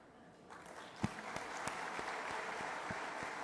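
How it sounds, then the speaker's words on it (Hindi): Faint, thin applause from an awards ceremony audience for a market analysts' awards, a few sharp claps standing out over a soft wash of distant hall noise. "मैं देख रहा हूं मुश्किल से तालियां बज रही हैं"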